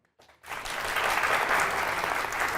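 Studio audience applause on a comedy show rises quickly and holds as steady, dense clapping, fairly loud and without talk.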